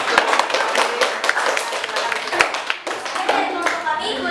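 Hands clapping in a classroom, a short burst of scattered applause from a small group, close and fairly loud, with faint voices mixed in.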